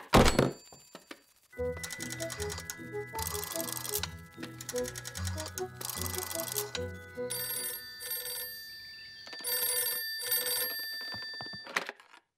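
A telephone rings in a French animated children's cartoon, a bright trilling bell sounding in repeated bursts over rhythmic music-like thumps, close and loud, with no speech.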